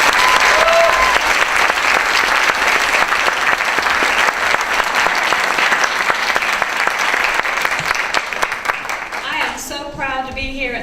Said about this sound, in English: Please give everybody a round of applause and thank her for being here.